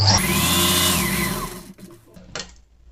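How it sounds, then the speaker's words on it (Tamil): Electric sewing machine running fast while stitching a double seam on a pinafore, a steady whirring hum that winds down and stops, followed by a brief short burst near the end. "இதில் வந்து டபுள் தையல் போடணும்."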